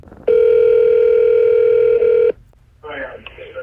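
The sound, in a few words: telephone ringing, incoming call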